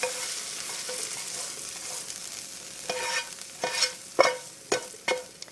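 Caramelized food for turkey chili is stirred and scraped as it goes into a crock pot, with a soft sizzle under a run of sharp clanks and scrapes that grow more frequent toward the end, close by.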